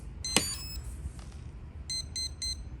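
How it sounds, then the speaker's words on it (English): A brushless RC car's electronic speed controller sounds as the radio switches on: a longer electronic tone, then three short, evenly spaced high beeps, fairly quiet in a shop setting. "Gives you a couple beeps."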